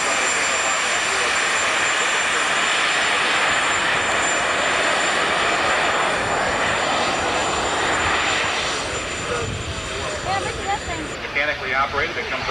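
A loud aircraft engine roars continuously as an airplane takes off at a 1984 airshow, the sound easing slightly near the end, with a commentator talking over it.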